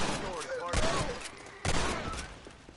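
Gunfire in Red Dead Redemption (2010): two sharp, loud shots about a second apart ring out over busy game sound, with a few quieter cracks and music in the background.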